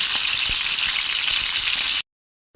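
Loud, dense sizzling of fish frying in hot oil, continuous and close, cutting off abruptly after two seconds.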